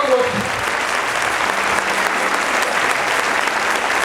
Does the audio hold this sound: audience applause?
yes